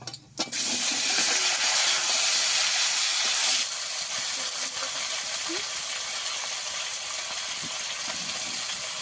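Green chillies, potato and plantain hit hot oil tempered with five-spice, bursting into a loud, steady hiss of frying that starts abruptly, stays strong for several seconds, then settles into a slightly softer continuous sizzle.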